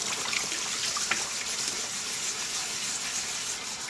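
Cold tap water running steadily over a Griswold cast iron skillet being cleaned after a lye bath, a constant soft hiss and splash with a brief clink or two, fairly quiet and alone.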